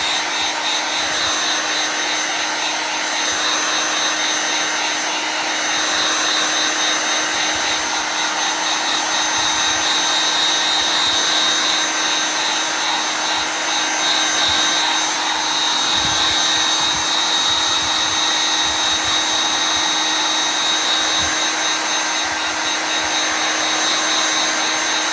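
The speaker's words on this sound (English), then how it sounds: "I'm just gonna kind of hit this with a little bit of heat now, kind of give it a head start to drying" A heat tool blows steadily and loudly across wet chalk transfer paste for a craft project, a continuous whirring roar with no breaks or talk.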